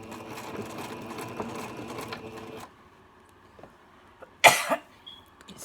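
A sewing machine stitches tulle in a fast, close, steady whir for a few seconds, then stops; after a quiet pause a single loud cough breaks in.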